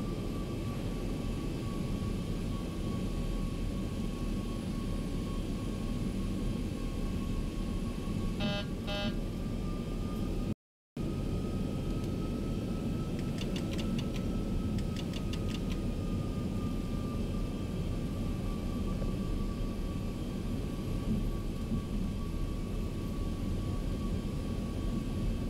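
Steady, loud jet engine roar of an airliner taking off in X-Plane 11, a Southwest flight departing runway 34 right at Salt Lake City, broadband and constant for the whole stretch apart from one brief dropout.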